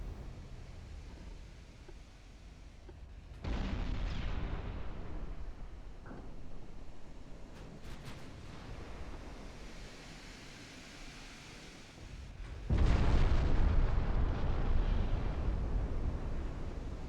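Torpedo hits on warships in a naval battle game, heavy muffled booms that surge in abruptly twice and settle into a low rumbling wash of noise.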